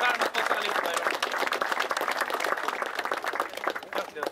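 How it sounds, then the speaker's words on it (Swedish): A crowd at a BMW Concours d'Elegance car show at Knutstorp applauds a BMW 2000 CS, the dense clapping quick and fairly distant, steady throughout with a voice briefly heard over it. "En applåd."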